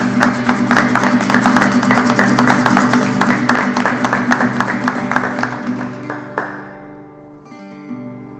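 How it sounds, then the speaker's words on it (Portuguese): A church congregation applauds during a worship service, a dense patter of clapping over sustained keyboard chords that thins out and fades near the end, leaving the music softer. "Pode dar um aplauso ao Senhor Jesus."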